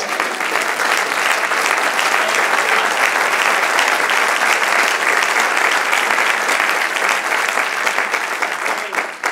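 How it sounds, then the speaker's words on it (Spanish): Steady, dense applause from a church congregation fills the whole stretch, loud and continuous from start to finish, then tapers slightly at the end. "Un aplauso al Señor"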